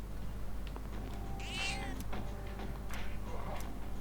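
A cat meows a few times in the Persona 3 Reload video game, short clear mewing calls set over a low steady background hum, with faint chirpy game sounds between them and no speech.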